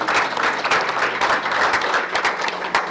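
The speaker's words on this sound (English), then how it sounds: "Round of applause for the guys up here." An audience at a sports team event applauds the guests on stage, a close, lively burst of many hands clapping with uneven rhythm and no talking.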